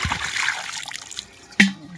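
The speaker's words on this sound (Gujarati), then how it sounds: "આપણે પાણી થોડુંક આમાં ભરી લઈએ." Water is poured into a container outdoors, giving a light trickling and splashing run followed by a brief, sharper splash near the end.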